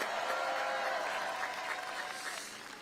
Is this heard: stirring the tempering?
no